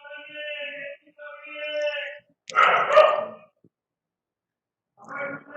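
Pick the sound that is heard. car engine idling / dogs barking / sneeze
dogs barking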